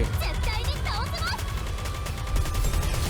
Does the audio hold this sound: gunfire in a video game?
yes